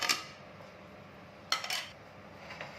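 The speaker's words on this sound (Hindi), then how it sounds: "कटी हुई खजूर डाल देंगे" Chopped dates tipped into warm melted cow ghee in a pan for a sugar-free khajur pak sweet, giving a few short metallic clinks and scrapes of utensil on pan, with one clatter at the start and a cluster midway, no talk.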